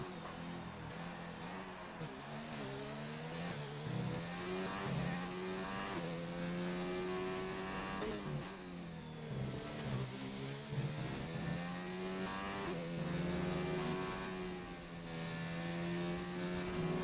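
Race cars lap the Spain circuit in a PC racing game, their engines whining and rising and falling steadily through gear changes, loud and continuous over the whole stretch.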